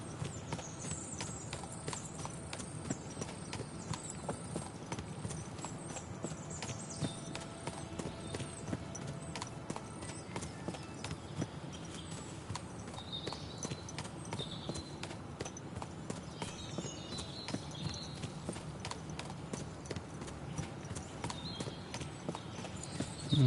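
Steady clip-clop of a horse's hooves as a rider travels along a hill in the medieval game Kingdom Come Deliverance 2, an even trotting rhythm heard throughout, fairly quiet with faint ambient birdsong.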